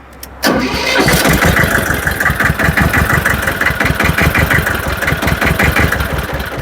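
An old imported Hinomoto E23 tractor's diesel engine cranks and catches within a second, then settles into a loud, steady, rapidly chugging idle that runs alone to the end.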